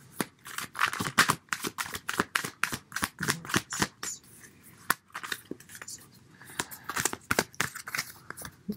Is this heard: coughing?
no